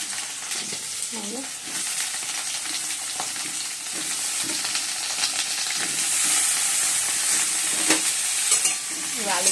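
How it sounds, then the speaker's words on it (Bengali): Potatoes and cabbage sizzle and crackle in a hot pan while being stirred, a steady close frying hiss that swells slightly toward the end, with no one talking. "বন্ধুরা আলুগুলো আমি লাল লাল করে ভেজে নিয়েছি"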